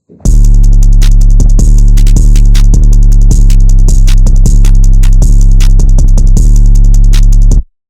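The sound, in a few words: programmed drum beat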